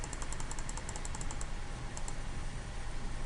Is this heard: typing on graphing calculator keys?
yes